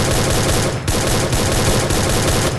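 Gunfire in Garena Free Fire: loud, dense, continuous automatic fire filling the whole moment, with brief breaks in the rhythm between bursts.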